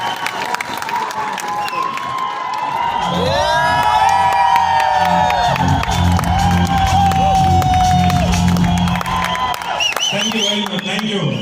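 A large crowd at a network marketing meeting cheers, whoops and claps loudly for several seconds, with shouted voices rising above the noise before it settles.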